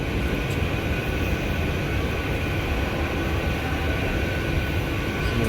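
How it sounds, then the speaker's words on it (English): Interior rumble of the Lusail tram in Doha while riding, a steady low rolling drone with broadband noise holding even and fairly loud throughout, no voices. "We boarded the Lusail tram from their platform at Lusail QNB."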